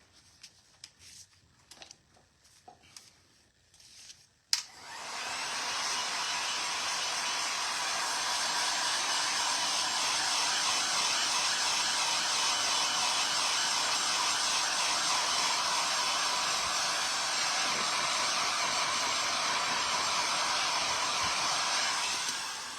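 A hair dryer blows steadily on wet paint on shabby chic wooden risers, starting abruptly after a few seconds of faint handling noises and then holding a loud, even roar to the end.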